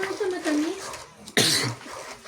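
A single sharp cough bursts out near the middle, right after a stretch of talking. Quieter voices continue around it.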